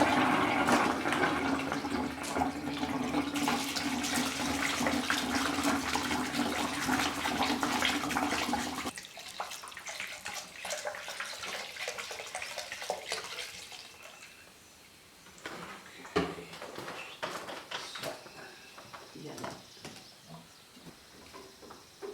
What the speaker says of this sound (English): It does kind of suck it out just as fast as I can pour it in